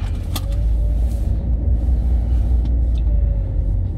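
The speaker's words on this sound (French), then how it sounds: "là j'accélère à fond, elle part pas, je suis à 2000 tours" A car's engine under full throttle at about 2000 rpm with a power-loss fault, giving a steady loud low rumble from inside the cabin that holds flat without climbing.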